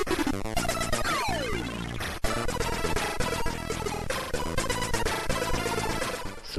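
Commando on the Commodore 64 plays its chiptune soundtrack together with game sound effects: busy, layered synth tones, rapid explosions and shots, plus a falling sweep, all loud and unbroken throughout.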